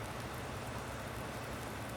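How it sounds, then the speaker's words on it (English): Steady, even hiss of rain falling in a farming video game, continuous and fairly faint with no other sounds. "And the rain is here."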